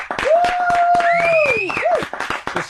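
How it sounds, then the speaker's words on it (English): An audience claps in a steady run of close, sharp hand claps, with high whistle-like tones sliding over the top and some crowd noise mixed in. "She gets the slow clap."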